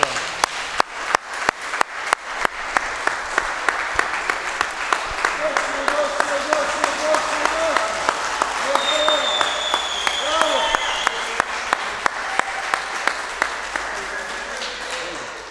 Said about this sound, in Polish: I dla Was myślę od rodziców wielkie brawa